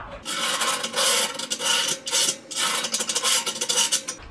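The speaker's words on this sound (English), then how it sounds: "and scribe a nice neat line" A scriber scrapes a line along rusty steel in a series of rasping strokes, close and fairly loud, each stroke lasting about half a second with short pauses between.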